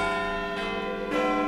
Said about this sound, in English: Central one is Big Ben, the hour bell, which weighs over 13 tons, and then the 4 quarter bells give the tune, the Westminster quarters